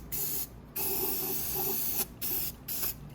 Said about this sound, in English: I'm probably going to give that a spray too around the engine.